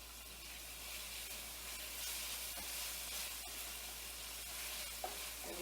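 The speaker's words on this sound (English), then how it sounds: "Hear the sizzling going on here." Food sizzles and crackles steadily in a hot pan while making Portuguese tuna and macaroni, close up, with an occasional soft clink.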